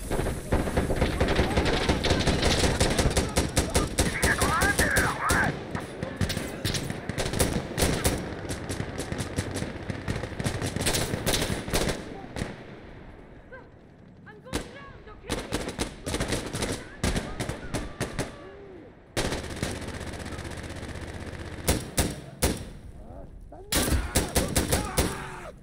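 Dense gunfire in Insurgency: Sandstorm on Xbox Series X, loud sustained bursts and rapid shots filling most of the stretch, with brief lulls and renewed volleys near the end, voice chat occasionally underneath.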